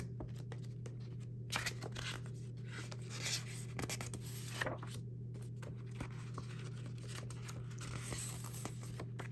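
Tarot cards shuffled and drawn for a reading, soft rustling and light card slides with occasional taps, quiet and close against a steady low hum.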